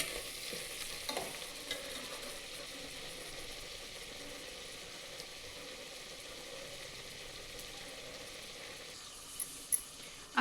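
Salted spinach pulao mixture being sautéed and stirred in a pan: a quiet, steady sizzle with faint spoon scrapes and a few soft taps near the end, no talking.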